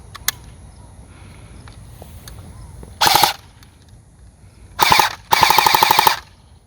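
An E&L AK-74MN airsoft rifle firing close by in three quick full-auto bursts, one short, one short and one longer, each a rapid mechanical rattle separated by quiet gaps.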